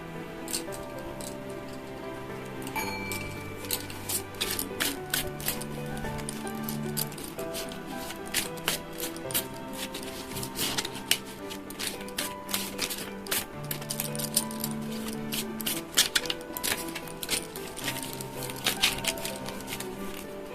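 Tarot and oracle cards being shuffled and drawn, giving rapid papery flicks and taps that patter irregularly for a long stretch, with a soft tonal backing underneath.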